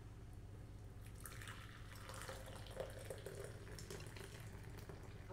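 Homemade soy milk poured and strained through a fine cheesecloth strainer, a soft steady trickle and dripping of liquid with faint splashes, fairly quiet and close.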